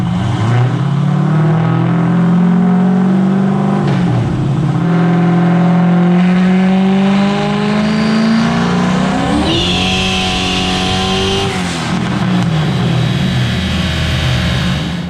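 A turbocharged 363 stroker Fox Body Mustang with an 80mm turbo on a chassis dyno, running a sustained loud pull with engine pitch climbing steadily, briefly dipping around shifts and rising again, close and continuous without speech.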